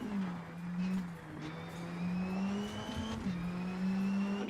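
Rally car turbo engine in a rally video game, a steady loud engine drone holding pitch with shifts and small dips, turbo whine above, continuous and close without talk.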